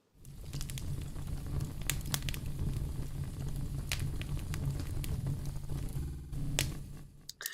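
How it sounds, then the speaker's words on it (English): Stock crackling fireplace effect standing in for a campfire: dense, continuous crackle and sizzle with frequent sharp pops and snaps, moderately loud and close, no voices. "it says crackling fireplace, but we're going to pretend it's a campfire"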